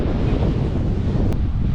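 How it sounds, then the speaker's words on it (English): Strong wind gusts across an Atlantic beach on Assateague Island, roaring steadily against the microphone with a low rumble of surf beneath, loud and unbroken, with no voices. "it's really, really windy, and that's what's bothering everybody"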